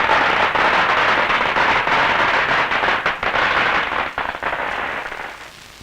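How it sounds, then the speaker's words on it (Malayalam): Firecrackers bursting in a dense, continuous crackling barrage. The rapid pops stay loud for about five seconds, then thin out and fade. "പൊട്ടറ്റരെ പടക്കം പൊട്ടട്ടെ."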